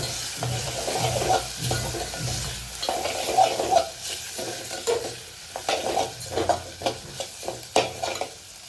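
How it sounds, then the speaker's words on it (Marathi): Sago pearls and dry fruits are stirred in a pan for sabudana kheer, making close, repeated scraping and light sizzling strokes in a loose rhythm, with occasional clinks of the spoon. "आता टाकूयात आपले साबुदाणे. मिक्स करायचं."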